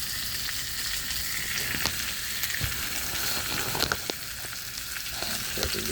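Steak sizzles in a cast iron pan with steady, loud frying hiss and scattered spits and pops throughout, no voices.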